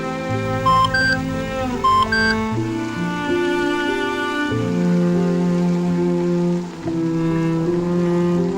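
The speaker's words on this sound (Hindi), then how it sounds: "तभी उसके फोन पर एक मैसेज आया।" A phone message notification sounds as two short, bright electronic beeps in quick succession, heard over a bed of sustained musical tones.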